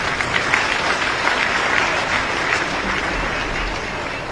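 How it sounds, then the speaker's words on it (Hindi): A large audience at a rural women's self-help group event in Rajasthan bursts into steady, dense applause that holds loud and unbroken throughout, fading a little toward the end. "उनके लिए एक बड़ा ताली तो हो जाए।"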